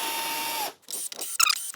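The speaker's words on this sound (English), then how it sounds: "I'm just going to use a drill just because it will take a long time" A power drill whirs steadily for under a second, mounting a North Bayou F160 gas spring dual monitor arm, then stops, followed by short clicks and rattles of hardware being handled.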